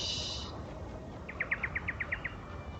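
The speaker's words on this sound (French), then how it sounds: "Des petits bruitages d'oiseaux, s'il vous plaît." Bird chirps added as an effect in the strategy game Shogun 2: Total War, a quick run of about eight bright, evenly spaced tweets after a brief high tone, over a steady ambient bed with no talking.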